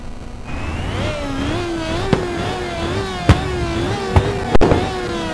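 Race car engines revving in Ridge Racer 2 on PSP, a steady close whine rising and falling in pitch, punctuated by a few sharp clicks, with no talking.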